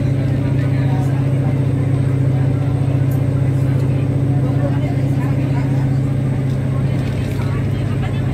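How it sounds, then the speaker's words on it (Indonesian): A feeder train's diesel engine drones with a constant deep vibrating hum heard from inside the carriage, loud and steady throughout, with people talking over it. "kedengeran lo dieselnya."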